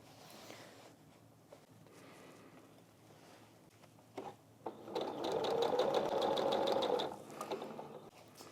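A sewing machine stitches a hem along a fabric dust bag for a painting, running steadily for about two seconds near the end after a quiet stretch with faint handling sounds.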